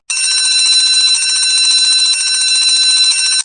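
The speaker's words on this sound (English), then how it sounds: "On pressing the switch, you will be able to hear the bell ringing." A loud, continuous metallic ringing from an electric bell, like a rapidly struck bell, sounds nonstop for a few seconds and then cuts off.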